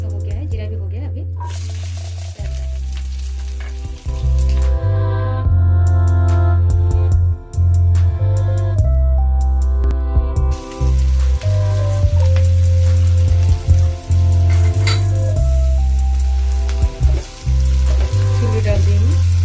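Cumin seeds frying in hot oil for potato chutney, a loud continuous sizzle and crackle that flares up and settles repeatedly, with someone speaking over it throughout.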